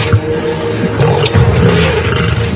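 A male lion roars and snarls at hyenas over a carcass, loud and close, with rough, throaty bursts that swell and fall over a few seconds and no voices present.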